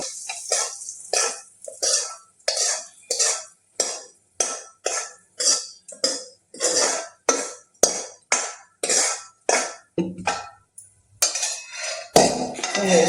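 A spoon stirs fried tempering into thick semolina (rava) idli batter in a bowl, making a rhythmic series of wet squelching scrapes, roughly two per second, close and fairly loud, then some clattering at the end.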